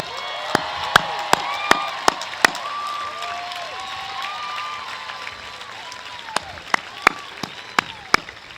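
Applause at a 2017 high school commencement, honoring first-generation graduates, fills the clip as a steady wash of many hands clapping, with sharp individual claps standing out and some crowd murmur and faint cheering underneath.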